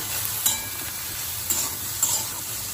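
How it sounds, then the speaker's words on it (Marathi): Cauliflower being stir-fried in a pan for a quick gobi fry, giving a steady soft sizzle with a few brief scraping stirs of a utensil; no talking. "पाच ते दहा मिनटानंतर झाकण काढून आपल्याला पुन्हा हा फ्लावर परतून घ्यायचा आहे"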